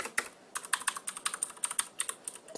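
Clicky typing on a CM Storm QuickFire Rapid mechanical keyboard with Cherry MX Blue switches, a quick run of sharp, evenly spaced clicks close up, loud and alone.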